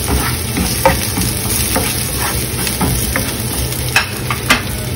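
Garlic and ginger sauté in a hot pan, a steady close sizzle broken by occasional clinks and scrapes of stirring, with no talking.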